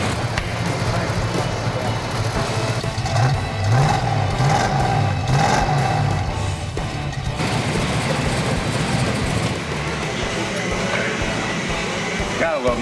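A 1970 Hemi Charger V8 with a four-speed runs after an exhaust leak repair, a loud close rumbling idle with a short rise in revs midway, while people talk over it.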